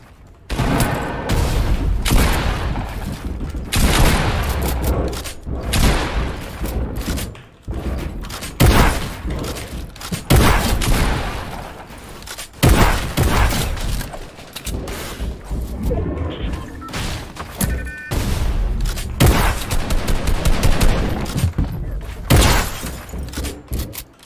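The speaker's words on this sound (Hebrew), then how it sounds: "ראיתי מישהו יורה עליי מרחוק." Fortnite gunfire in repeated sharp bursts and volleys, loud and close, with crashing impacts and short pauses between exchanges, and a voice briefly under the shooting.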